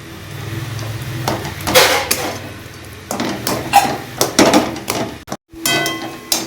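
Gati kochu taro and other recipe ingredients being mixed together by hand in a bowl, giving irregular knocking, scraping and clattering bursts with a brief silent gap near the end, fairly close.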